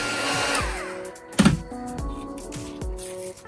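A hot air gun blows a steady whoosh of heated air across foamboard to loosen and lift its paper facing, with a brief louder burst near the middle.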